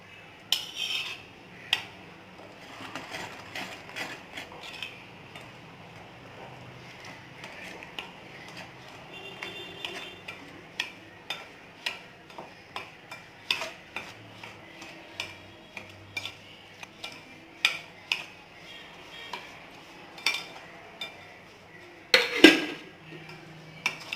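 A utensil scrapes and clinks against a bowl while urad dal ladoo mixture is mixed with melted ghee, giving a steady run of soft taps and stirring noises, close by with faint background sounds.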